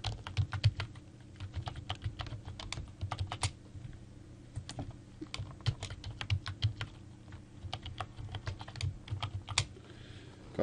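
A password being typed on a computer keyboard, quick uneven clusters of close key clicks running steadily with brief pauses, no voices.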